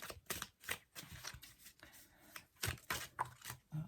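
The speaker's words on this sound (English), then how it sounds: "as I shuffle the cards" Tarot cards being shuffled up close, a series of quick riffling bursts with short pauses between them, soft and without talking.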